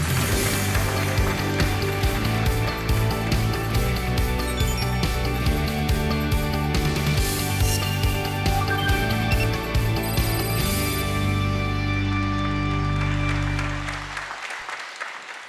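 Applause at the Seoul Forum 2022 research session as Professor Yu Hong-rim is welcomed to the stage, heard as sustained clapping mixed with loud stage music that fades out near the end.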